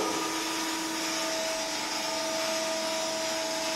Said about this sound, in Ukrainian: Це ти включив що? Насос.